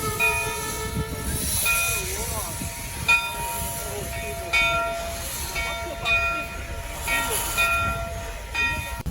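Steam hiss and a steady rail-yard drone from the Virginia & Truckee steam locomotive No. 12, the Genoa, hold throughout, with sustained tonal whistle-like lines and occasional bursts, under intermittent nearby talk.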